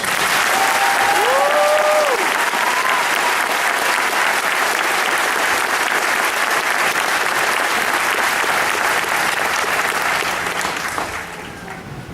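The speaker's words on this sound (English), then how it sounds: "please join us in giving these fine soldiers and civilians another round of applause." A large audience claps loudly and steadily at an army graduation ceremony for soldiers and civilians of the 2nd Battalion, 19th Infantry Regiment. The applause is dense and sustained, then eases slightly near the end.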